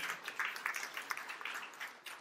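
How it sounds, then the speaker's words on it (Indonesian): Congregation applause at a church sermon, a steady wash of many hands clapping at moderate distance, dense and continuous with no voices over it. "Tepuk tangan yang meriah untuk kemuliaan nama Tuhan"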